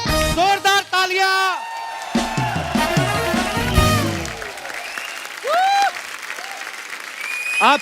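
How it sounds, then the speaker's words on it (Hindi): Studio audience on a comedy talk show claps and cheers for arriving guests, loud applause mixed with whoops under excited overlapping voices and music. "जोरदार तालियां।"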